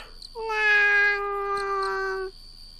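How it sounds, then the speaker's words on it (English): A kitten in a video game gives one clear, drawn-out meow, loud and close, lasting about two seconds over a quiet background. "The kitten meows after her, but she doesn't turn back."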